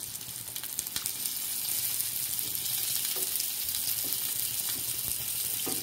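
Stuffed bitter gourd fried in a pan for a masala karela dish, a loud, steady, close sizzle of hot oil with faint scraping stir sounds now and then, no voices.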